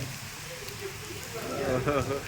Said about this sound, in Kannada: ಒಳ್ಳೆ ಮಳೆ ನೋಡಿ ಇನ್ನೂ ಜಾಸ್ತಿ ಆಯಿತು ಮಳೆ ಮಳೆ ಜಾಸ್ತಿನೇ ಆಯಿತು